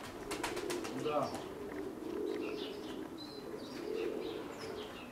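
Tbilisi tumbler pigeons coo in low, rolling phrases during spring display flights, close and continuous, with a few brief chirps and wing flaps near the start and a short spoken word over them.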